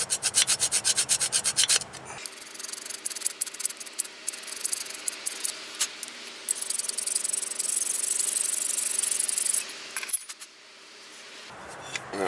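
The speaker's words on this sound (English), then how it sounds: "Just again, make sure you scrape." A part being scraped clean with a hand tool, steady rasping scrape strokes close by, continuous and gritty with a faint hum underneath.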